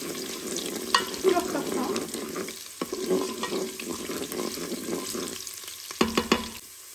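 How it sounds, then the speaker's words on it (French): Garlic cloves sizzle in olive oil in a pan, an uneven crackling fry with spatula stirs and scrapes, close by, as a voice speaks briefly near the end. "On vient faire revenir pendant 1 minute nos gousses d'ail afin qu'elles dégagent"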